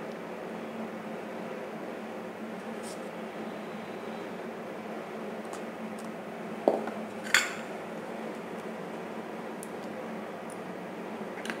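A spoon stirs custard powder and cornflour together in a bowl, a faint continuous scraping broken by two sharper metallic clinks midway, with no talking.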